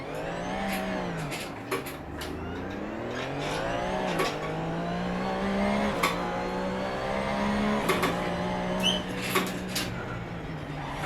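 Engine of a car in a racing video game played on a DIY motion simulator with a surge rail, revving steadily and shifting pitch up and down through gear changes, with occasional sharp clicks, alone with no talk.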